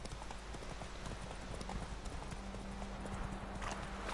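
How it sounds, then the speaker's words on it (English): Roach, Geralt's horse in The Witcher 3, trots with a steady, continuous clip-clop of hooves that holds alone over a constant background hum. "Never understood why his horse was called Roach."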